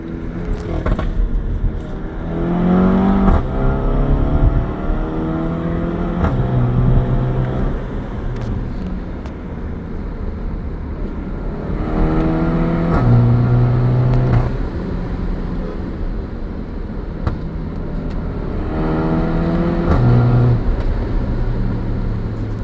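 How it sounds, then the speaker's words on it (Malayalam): A modified Skoda VRS 230 with a Stage 2 tune accelerates at full throttle through the gears, its engine note rising in three repeated climbing sweeps, loud and close from inside. "തേർഡ് ഗിയർ വരെ ഫസ്റ്റ് സെക്കൻഡ് നോ ഗ്രിപ്പാണ് നമ്മൾ ഫുൾ കൊടുത്തു കഴിഞ്ഞാൽ"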